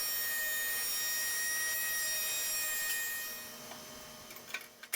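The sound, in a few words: resawing and planing wood boards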